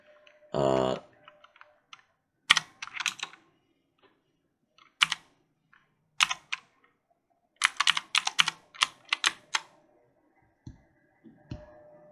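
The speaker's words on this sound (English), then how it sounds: "I'm going to type in," Bursts of computer keyboard typing in a quiet room, with clustered fast keystrokes and short pauses between words, close and clear.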